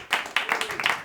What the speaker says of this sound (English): So everyone, start clapping.